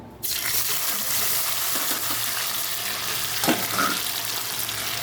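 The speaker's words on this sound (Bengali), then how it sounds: "অল্প একটু সর্ষের তেল দিয়েছি এখানে ভেজে নিচ্ছি" Paneer fries in a mix of refined and mustard oil with a loud, continuous, close sizzle that starts suddenly and holds steady, broken once or twice by a brief stir or scrape.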